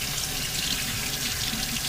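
Cold water runs steadily from a kitchen tap as lettuce is rinsed for a cast iron burger, a continuous close hiss and splash with no voices.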